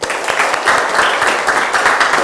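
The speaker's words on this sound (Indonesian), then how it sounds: "tepuk tangan untuk kita semua" Applause from a seated group at an Indonesian university teacher-training class, a dense, steady wash of clapping close by, continuous for a couple of seconds with no talk over it.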